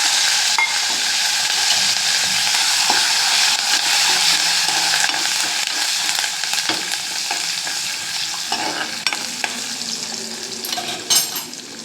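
Green chilies, asafoetida and curry leaves fry in sesame oil as a South Indian tempering, giving a loud, steady sizzle with occasional stirring scrapes and pan clinks throughout, with no voices.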